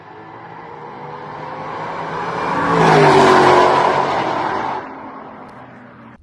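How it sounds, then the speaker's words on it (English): A Camaro ZL1 1LE and a Mustang GT500 launch from a dig, a loud engine roar that rises to a peak as the cars pass close, then fades away, with no voices. "here's a small snippet of a video of the ZL1 1LE and the GT500 from a dig with the ZL1 1LE doing this"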